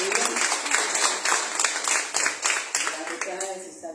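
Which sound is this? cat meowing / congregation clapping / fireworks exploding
congregation clapping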